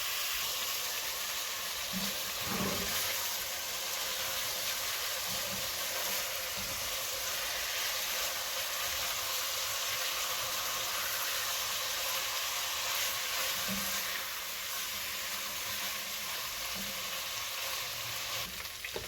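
Beef chunks searing in a pan make a loud, steady, close sizzle that holds without a break for the whole stretch, with faint clinks now and then and no voices.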